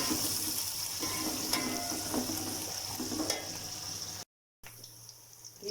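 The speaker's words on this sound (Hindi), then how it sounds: "अब इसमें हम अपनी प्याज डाल देते हैं और प्याज को लाइट ब्राउन होने तक हम इसको ब्राउन कर देते हैं" Chopped onions frying in hot oil with whole spices for a peas and potato rice, a steady close sizzle with occasional stirring scrapes, briefly cutting out before the sizzling resumes.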